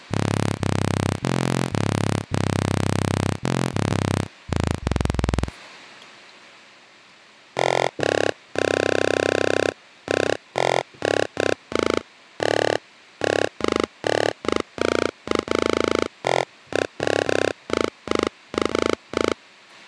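Thumpkin instrument preset from the Akai MPC The Noise expansion: loud, buzzy synthetic bass notes played in choppy bursts, first several held tones, then a brief pause and a rapid rhythmic run of short stabs.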